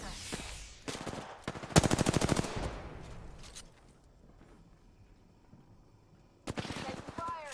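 Gunfire in a battle royale video game match, with several loud bursts of automatic fire up close, a long quieter stretch of faint background movement, then another burst near the end.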